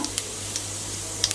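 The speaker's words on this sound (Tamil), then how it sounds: "இப்போ தாளிப்புக்கு சீரகம், சோம்பு, கருவேப்பிலை, அவ்வளோதான்." Cumin seeds tempering in hot oil for a Chettinad crab masala give a steady, close hiss of sizzling, broken by a few sharp pops, with a low electrical hum underneath.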